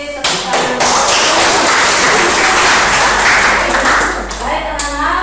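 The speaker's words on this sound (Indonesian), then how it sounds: "Tepuk tangan." A classroom of schoolchildren claps together in a loud, close burst. The dense clatter of hands keeps up for several seconds before thinning out, with a few voices mixed in.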